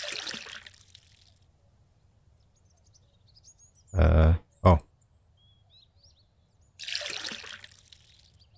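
Water poured into a distiller in the survival game Mist Survival, heard as two short, loud bursts of liquid sound close together, one longer then one brief, between stretches of quiet ambience and a spoken interjection.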